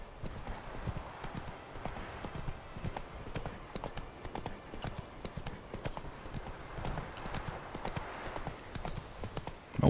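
Rapid, rhythmic hoofbeats of Geralt's horse Roach galloping in The Witcher 3 run steadily throughout, moderately loud and close, with no clear talk over them.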